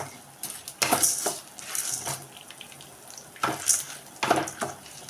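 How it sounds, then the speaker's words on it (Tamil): Spices roast in a pan for vatha kuzhambu: intermittent clinks and scrapes of a ladle against the pan over a soft background crackle, with clear pauses between bursts of stirring. "எல்லாத்தையும் பொன்னிறமாக வறுத்து எடுக்கணும்"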